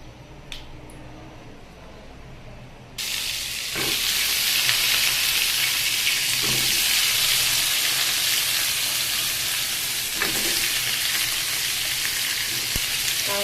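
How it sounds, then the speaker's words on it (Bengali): Carrot and soaked jackfruit seeds hitting a hot pan, a loud, bright sizzle bursting in after three seconds of quieter frying and holding steady, with a few sharper pops and spatula taps along the way. "এখন এটাকে আমি একটু ভেজে নিয়ে তারপরে ডালে দেব"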